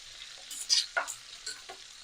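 Meat browning in a pan for Sunday gravy sizzles quietly, with a few soft stirring scrapes and spatters rising in short bursts over a low, steady fry.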